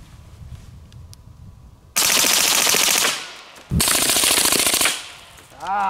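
An MP5 submachine gun firing full auto at a bowling ball on a range, two loud sustained bursts of rapid shots about a second or more each, separated by a brief pause, with quiet outdoor ambience before.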